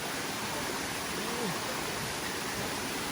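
The hot spring waterfall at Khlong Thom in Krabi, Thailand, pours as a steady, dense rushing roar, close and continuous, with a faint voice barely audible beneath the water.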